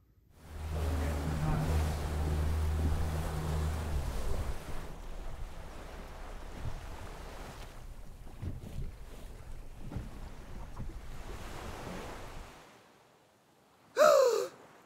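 A boat motors across the water in a short drama scene: a steady low engine drone with wind noise that thins out and fades, followed by a brief sharp gasp-like sound near the end.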